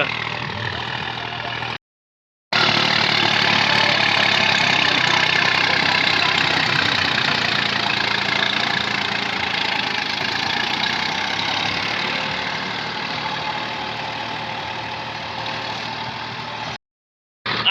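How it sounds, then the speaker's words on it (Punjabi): Swaraj 855 tractor engine running under load with a rotavator attached, a loud continuous diesel drone that holds steady for most of the stretch, briefly cut out near the start and end. "ਆਹ ਟਰੈਕਟਰ ਜਿਹੜਾ ਚੱਲੀ ਜਾਂਦਾ ਜੀ"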